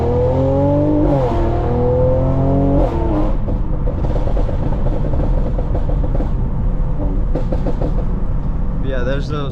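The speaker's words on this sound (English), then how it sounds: "Yeah, there's those pops and bangs." A tuned stage 2 car of about 550 horsepower drives on the road, its engine revving up and down loudly with a burst of sharp crackling exhaust pops in the middle, and wind buffeting the microphone.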